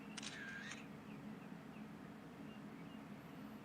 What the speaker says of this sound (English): I think I heard the sound of a camera shutter.